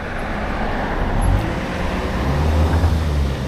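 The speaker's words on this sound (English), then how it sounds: "Here we are in traffic." Steady road traffic rumbles around a rider on a Lectric Xpedition e-bike in the suburbs, with continuous broadband noise and low engine drone from passing vehicles, loud and close, with no talking.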